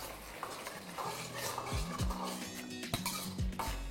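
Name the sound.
stirring sauce of soy sauce, vinegar, salt, sugar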